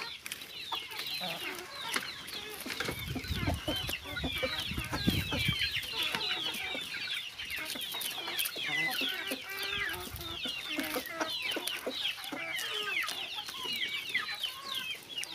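Chickens and young roosters at a Brazilian countryside homestead cluck and chatter continuously, many birds overlapping nearby in a busy, layered flock chorus.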